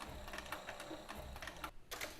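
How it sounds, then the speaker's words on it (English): A sewing machine runs in reverse to back-stitch a leather keeper on a 6-inch back cinch, giving a quick, close run of rhythmic mechanical stitching clicks that ends with a brief pause and a final burst. "I'm gonna put my sewing machine in reverse again. I'm gonna back stitch 3 before I come forward and drop off this keeper."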